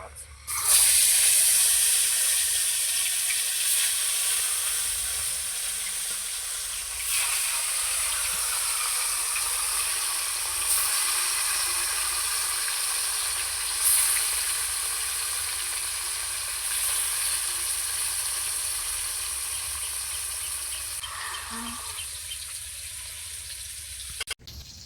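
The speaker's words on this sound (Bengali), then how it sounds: "মাছটা ভাজা হতে থাকো।" Shol fish frying in hot oil in a kadai pan makes a loud, steady hiss of sizzling that holds almost unbroken for the whole stretch, close up, with a few faint knocks near the end.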